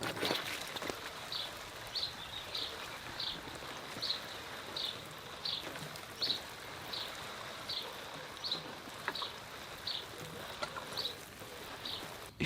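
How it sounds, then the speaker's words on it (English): A steady soft hiss of water spraying over a garden with dry soil, with faint chirps repeating at a regular pace in the background throughout. "And now let's water the garden."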